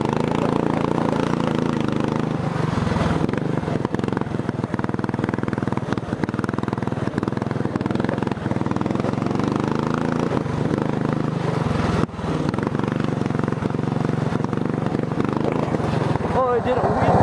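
Racing lawn tractor engine droning loud and near during a ride, with uneven surges and knocks from a transmission skipping gears, a brief sharp drop near the end.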